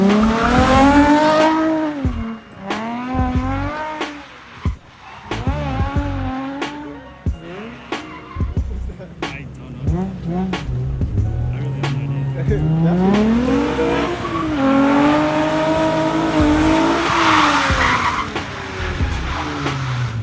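A BMW E36 spins through 360s with long screeching tire squeals and a revving engine, loud and close, as people talk over it.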